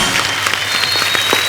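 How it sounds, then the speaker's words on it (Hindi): A studio audience gives steady, loud applause at a comedy show, with dense clapping throughout the short burst. "इस बात के लिए जोरदार तालियां बनती हैं।"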